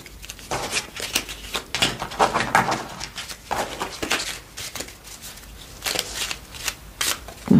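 Oracle cards being shuffled up close, a run of crisp riffling and flicking bursts in uneven rhythm with short pauses between them, heard on its own without talk.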